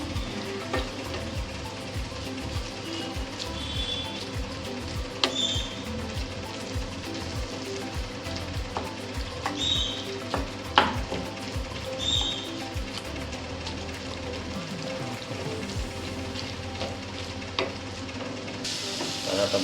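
Cabbage bhaji being stirred in a frying pan, with a steady close sizzle and soft scraping of the spoon going on throughout, with no voices.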